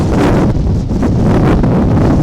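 Strong storm winds of Cyclone Biparjoy striking the Saurashtra coast, heard as a loud, continuous roaring buffet of wind with gusty surges, close and unbroken, with no voices.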